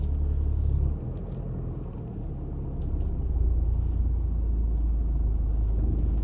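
A car reverses out of a parking space on a city driving test route, its engine giving a steady low rumble with faint tyre and road noise and no speech.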